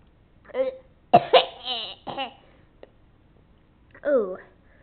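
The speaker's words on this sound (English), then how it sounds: "I coughed." Several short coughs from a person, close and fairly loud, arriving in an uneven burst followed by one more after a pause, with a voice speaking briefly in between.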